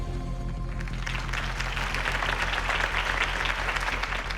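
Crowd applause at a Harvey Dent campaign rally in the Batman Telltale Series game, dense steady clapping that swells in after a fading low musical tone and holds evenly throughout.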